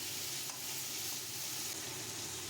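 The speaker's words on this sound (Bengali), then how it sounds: "দিয়ে দেবো কুচনো টমেটো আবারও সমস্তটা ভালো করে নেড়ে চেড়ে ভেজে নেব" Chopped tomato being stirred and fried in a pan for a Bengali mourola fish curry, a steady broadband sizzle with soft stirring scrapes throughout, close and even, no voices.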